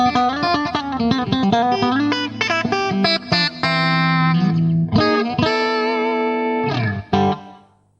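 Clean electric guitar played through a multi-effects unit with plate reverb: a quick run of plucked notes and chords, then sustained ringing chords that decay with a reverb tail, no voices.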